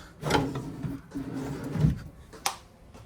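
Wooden drawers in a Forest River Salem 29VIEW RV kitchen slide and knock shut a few times nearby, a dull rumble followed by a sharp clack, with no talking.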